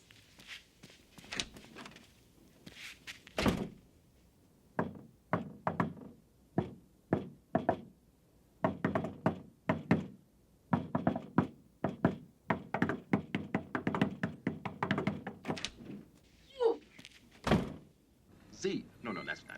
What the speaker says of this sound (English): we need a password or a secret knock